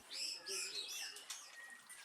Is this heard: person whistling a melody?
no